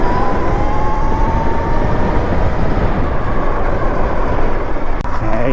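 A 12 kW Sur-Ron electric dirt bike with a stage 1 performance upgrade, accelerating hard: loud, continuous rushing drive and wind noise close up, with a faint rising whine.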